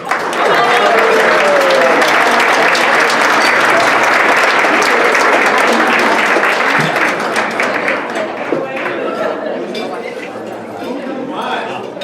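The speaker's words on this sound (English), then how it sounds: "Another round of applause for Esther." Loud, sustained applause from a large audience, dense clapping that gradually tapers off, with some voices and cheers mixed in.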